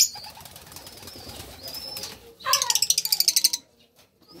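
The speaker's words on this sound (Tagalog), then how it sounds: "Ayan naman yung aking mga lovebird." Pet lovebirds and pigeons in cages chirp and coo, with brief flapping near the end; the sound is close and moderate, and a faint voice and background noise run beneath it.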